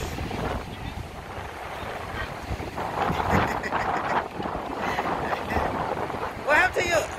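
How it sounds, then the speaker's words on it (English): Blustery wind at Daytona Beach buffets the microphone in a constant rumbling roar outdoors, with people talking faintly beneath the gusts. "It is windy out here. You might hear wind."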